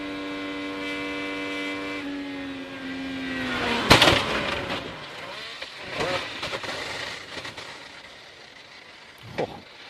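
An IndyCar race car at the Indy 500 skids and slams into the wall, engine whine dropping before a sharp loud impact, followed by scraping carbon debris and a later smaller crunch.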